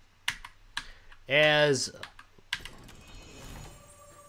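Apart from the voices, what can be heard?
typing on Redragon Fizz K617 magnetic switch keyboard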